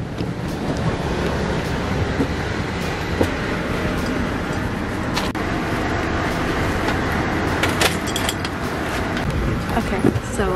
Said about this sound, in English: we are in the train